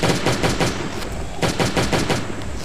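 Armor-piercing guns fire in Last Day on Earth: Survival during a hard-mode laboratory run: loud, rapid automatic bursts with short gaps between volleys, up close and with no talking.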